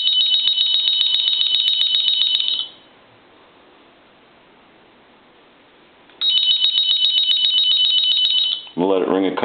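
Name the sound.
telephone bell ringing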